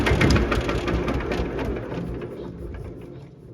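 A tractor more than 60 years old, with a single-cylinder engine, revs under heavy throttle. It makes a loud, close, rough chugging roar that eases slightly toward the end, with no voices.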